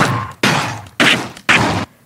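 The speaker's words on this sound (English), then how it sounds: "So for now, the default is small explosions." Four short explosion sound effects play in quick succession for a game audio demo, each a sharp burst decaying into a rumbling tail before the next cuts in, loud and close, then silence.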